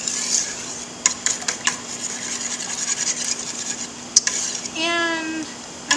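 Egg mixture for apple French toast whisked briskly in a bowl, giving close scraping and clicking strokes in irregular bursts, with a short tonal squeak near the end and no voices.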